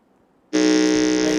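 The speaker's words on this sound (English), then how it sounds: "Let's hear the sound of the buzzer from Nana Kwenu Memorial School." A quiz contestant's buzzer sounds during a test at a school quiz qualifier, one loud sustained electronic buzz that starts abruptly after a brief near-silence and holds steadily to the end.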